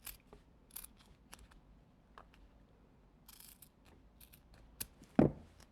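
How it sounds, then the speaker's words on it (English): Scissors snip through duct tape to cut a banner pennant shape, giving a handful of short, crisp clicks and crunches spaced irregularly, close up with quiet gaps between. "now what I'm going to do is cut from the center down to the outside edge."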